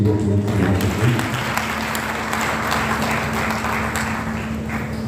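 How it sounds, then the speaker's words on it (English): A crowd claps in sustained applause, a dense patter of many hands, following a brief voice at the start, at an inaugural lecture at the Nigeria French Language Village. "Can we clap for the representative of the NCA?"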